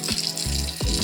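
A Helio air broom is rinsed under a kitchen sink tap: water runs and splashes in gushing bursts, shifting in pitch as the broom moves through the stream, with no talk.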